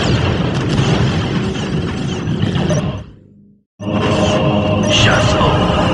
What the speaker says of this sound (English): Prepare for incoming orbital fire!